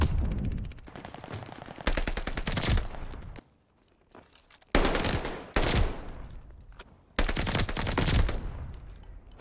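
STG assault rifle in Call of Duty Vanguard fires loud, rapid automatic bursts, about five strings of shots broken by short quiet gaps.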